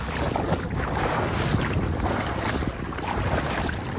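Traditional fishing boat out at sea off the Konkan coast, with steady rushing water and wind buffeting the microphone in a continuous, fairly loud wash and no voices.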